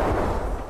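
A detonated explosive in Escape From Tarkov booms loudly and densely, its low rumble filling the short moment and holding without a break before easing off slightly toward the end.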